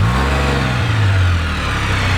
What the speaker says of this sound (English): Kill switch and start up.